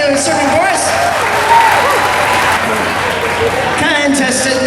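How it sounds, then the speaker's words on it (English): A comic convention crowd applauds the judges of a costume contest, with steady dense clapping throughout and scattered voices and cheers mixed in. "give a round of applause to our judges for being serving for us"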